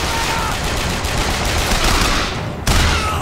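Loud, dense gunfire hitting a shield in Bioshock Infinite, a continuous rattling barrage that cuts off abruptly near the end, then resumes.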